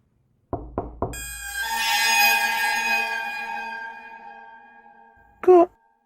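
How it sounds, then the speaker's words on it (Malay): Three quick knocks on a car window, followed by a long ringing tone that slowly fades, then a short final thump. "aku terkejut dari bunyi ketukan tingkap kereta"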